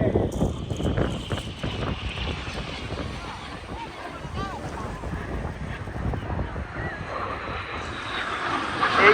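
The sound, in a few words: Red Arrows display jets flying past at an airshow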